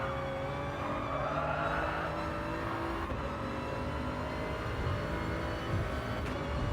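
Race cars in Gran Turismo Sport roar through an overtake, a steady loud blend of layered engine drones and whine lasting throughout with no talk.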